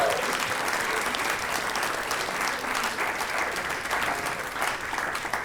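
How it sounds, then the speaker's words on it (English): A live comedy-theater audience breaks into loud, sustained applause for a performer walking on stage, a thick continuous roar of clapping that holds evenly throughout, with a hint of voices mixed in. "Please give a big round of applause for Heath Saunders, everybody."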